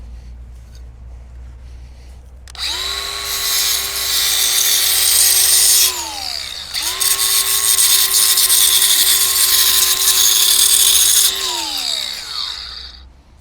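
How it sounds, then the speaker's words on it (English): An angle grinder cuts hardware cloth into tree guards: two loud, sustained high-pitched whining cuts, close by, each spinning up, holding steady for several seconds and winding down, with a short pause between them. "the easiest way is probably to use the angle grinder"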